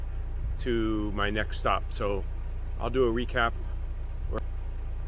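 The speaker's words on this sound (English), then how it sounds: "you can hear the car running in the background." A car engine idles steadily at a campground after a forest hike, a constant low hum running beneath a man's speech throughout.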